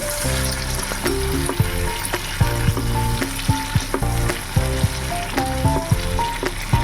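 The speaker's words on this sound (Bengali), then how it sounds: "নুনটা দিয়ে আবার একটু নাড়াচাড়া করে নিলাম" Tomatoes fry with salt in a pan for a vegetarian chhana (paneer) bhuna, with a continuous close sizzle broken by repeated metallic spatula scrapes and clinks in an irregular stirring rhythm.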